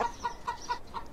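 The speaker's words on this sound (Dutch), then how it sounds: "Ik hoor nog meer kippen." Chickens clucking in a steady series of short, evenly spaced calls, four or five in quick succession, fairly close and with no talking.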